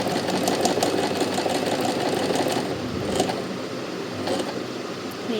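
A Singer SM024 sewing machine runs steadily while stitching a button, a continuous close mechanical whir with rapid needle rhythm that eases slightly in pace toward the end, no voices.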